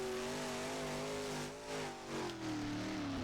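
A racing car in a dirt track game revving hard in reverse, a strained, wavering high engine whine held throughout with brief dips, fairly faint and heard alone.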